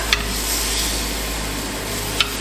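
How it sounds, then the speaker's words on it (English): Pork chops sizzle on the grill plate of a Power XL Air Fryer Grill, a steady soft hiss over a constant appliance hum, with two brief clicks near the start and end. "throw our pork chops right on there. Sizzle, sizzle."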